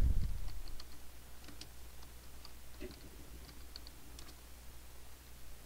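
Light keystrokes tapped on a computer keyboard, sparse and irregular, quiet and close over a low background hum with no voices.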